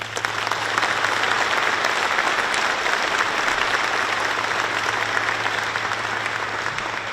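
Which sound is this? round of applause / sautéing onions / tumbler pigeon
round of applause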